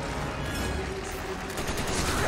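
Gunfire in the video game Resident Evil 5 during a boss fight, a dense, continuous burst of shots that stays loud for the whole stretch, with a voice faintly present underneath.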